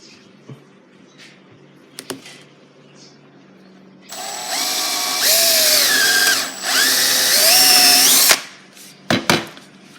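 Power drill boring holes in a clamped workpiece for a Bugatti Veyron car model, a loud sustained whine that rises and shifts pitch in two long bursts, with quieter workshop clicks before and after.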